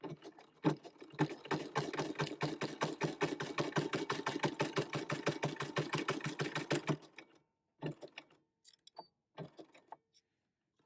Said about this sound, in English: I'm going to sew to the middle, and I apologize for my machine. It's been sounding kind of clunky lately